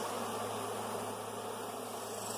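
Honeybees buzz steadily during a late-May hive inspection, a constant, dense, close drone with no voices over it.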